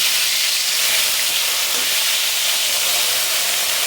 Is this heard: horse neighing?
no